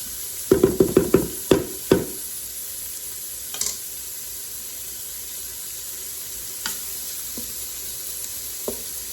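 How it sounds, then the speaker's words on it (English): Bacon sizzles in an Instant Pot while being broken up, with a quick run of sharp utensil knocks at first, then a few scattered taps over a faint, steady frying hiss, and no talking. "I'm gonna go ahead and put the bacon in and let that bacon start cooking down just a little bit"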